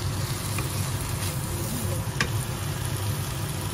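Potatoes go into a pan of sizzling corned beef, setting off a steady, close frying hiss with a few sharp crackles and light stirring scrapes throughout.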